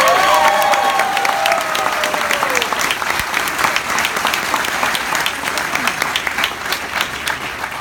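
Warm applause at a graduation ceremony for the graduating class, a crowd clapping steadily with faint cheers mixed in, continuous and fairly loud.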